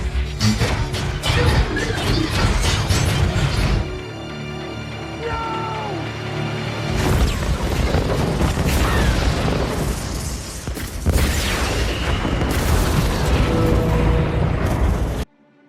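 A film scene where the ship USS Samson explodes: a loud, sustained explosion roars with booming blasts and crashing debris, layered with dense dramatic soundtrack noise throughout.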